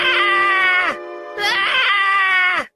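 A man cries out in terror, two long wailing, strained howls with a brief gap between them, loud and close and heard alone.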